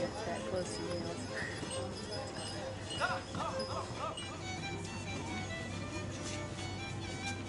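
Donkey hooves clip-clop steadily along a path on Santorini, Greece, set against busy outdoor ambience with background voices and occasional dog barks.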